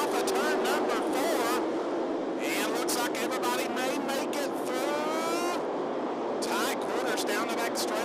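Late model stock cars racing at 411 Motor Speedway, engines roaring past in repeated loud passes under continuous announcer commentary.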